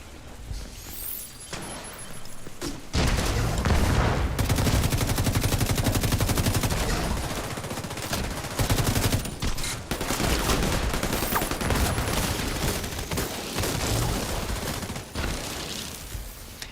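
Sniper shots and sustained automatic gunfire in an online shooter game, with heavy overlapping bursts that roar almost continuously after a few sharper early cracks, brief lulls breaking the barrage.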